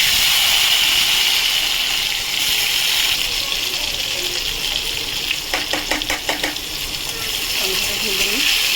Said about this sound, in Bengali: টমেটোটা ভেজে নিই ভালো করে।